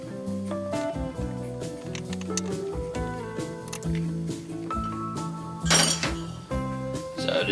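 Empanada dough of egg and milk being stirred in a bowl, with repeated clinks of a utensil against the bowl and soft wet squishing, close and fairly loud, with no talking.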